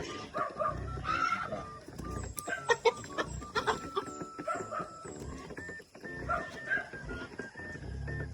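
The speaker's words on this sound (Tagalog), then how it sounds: "Cobra na manok." Chickens clucking and a rooster calling amid a busy farmyard, several birds overlapping continuously at close range, with a dog barking faintly.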